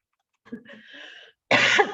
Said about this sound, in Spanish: me está entrando la tos